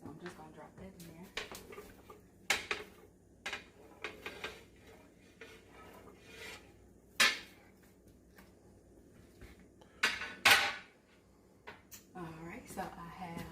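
Chopped white and red onions and vegetables are dropped into a metal pot, with scattered clanks and utensil knocks against cookware amid frequent talking.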